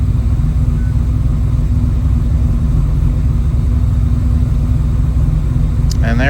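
A GMC Typhoon engine idles low right after a new idle air control valve was fitted, giving a steady, close mechanical rumble with an even drone and no revving.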